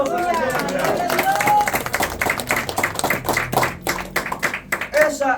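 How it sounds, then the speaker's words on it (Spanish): A church congregation breaks into loud applause for the Lord, many hands clapping close by with crowd murmur mixed in, the clapping thinning into scattered sharp claps near the end. "Un fuerte aplauso al Señor"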